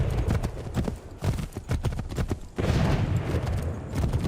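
Horse galloping in the video game Assassin's Creed 3, a steady run of close hoofbeats with some distant gunfire-like booms mixed into the game's battle din.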